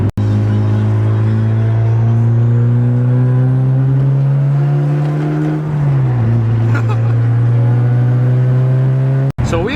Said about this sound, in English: off we go with the Supra Genesis